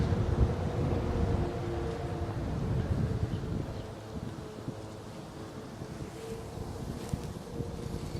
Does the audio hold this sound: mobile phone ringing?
no